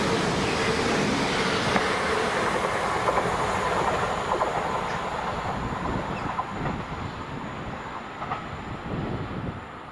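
A GBRF Class 66 diesel locomotive, 66743, hauls a freight train past at close range, producing a loud continuous rumble with rhythmic wheel clatter over the rail joints and faint wheel squeal throughout.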